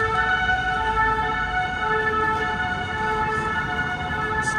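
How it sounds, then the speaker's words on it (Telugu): An ambulance siren wails steadily through a city street in the Quartier de la Chapelle in Paris, a sustained tonal cry over a dense bed of traffic and street noise. "అంబులెన్స్ సౌండ్ వస్తుంది"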